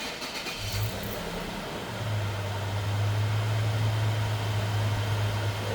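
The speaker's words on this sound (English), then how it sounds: "Let's go start up the car" A Toyota FJ Cruiser engine turns over and settles into a steady idle, a low constant hum with a brief higher surge near the start, heard up close under a wash of background noise.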